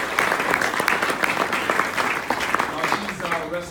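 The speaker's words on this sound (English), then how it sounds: "Please give her a round of applause" A crowd claps steadily at a political speech, a dense, even burst of applause lasting a few seconds with a voice faintly audible toward the end.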